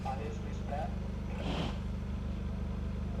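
A 2023 Toyota GR Corolla sits at idle after starting, its engine thrumming in a low, steady pulse close by while a person talks over it.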